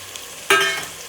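Ginger garlic paste dropped into a hot pan with tomatoes, starting as a sudden loud hiss partway through that then settles into a fading sizzle, close and alone.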